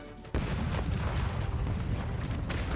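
Cannon fire and destruction in the pirate ship strategy game Rogue Waters: a sudden loud boom at about a third of a second, followed by continuous dense rumbling battle noise and crashing that stays loud to the end.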